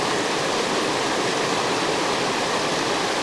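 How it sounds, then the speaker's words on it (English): Steady, dense rushing of a waterfall and rapids, loud and continuous, with no other sounds. "looking up all these little rapids and the waterfall"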